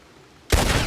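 A cannon fires in Red Dead Redemption 2, a sudden loud boom that bursts out after quiet and rolls on as a broad rumbling roar.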